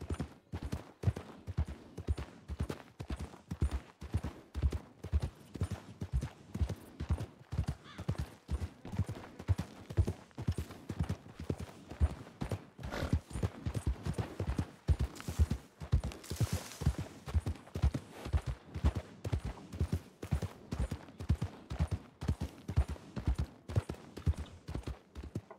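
Horse hooves clip-clop steadily in RedM, a Red Dead roleplay game set in 1920 on the way to snowy country, with a continuous galloping rhythm, fairly close and loud, and a brief rushing noise midway.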